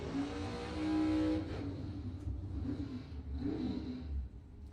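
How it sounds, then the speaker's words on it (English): A dragster doing a burnout at a drag strip during a bracket race, a loud engine roar that builds and then falls back into rough, pulsing revving heard from a distance. "I hear the dragster doing the burnout."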